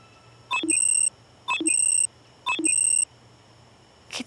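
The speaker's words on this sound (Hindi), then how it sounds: "कितने अलार्म लगाए हैं इसने सुबह उठ के क्लास आने के लिए।" Alarm clock beeping in three evenly spaced electronic bursts, about one per second, each a cluster of high tones. The bursts are loud and close with nothing else around them, and a fourth burst starts at the very end.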